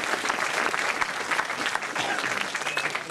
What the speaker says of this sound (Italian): Facciamo un applauso, Olimpia.